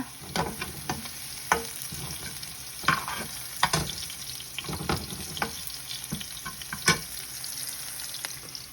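Scallops frying in a hot pan while spaghetti with basil and mussels is cooked, a steady close sizzle broken by scraping stirs and clinks of a utensil, with no voices.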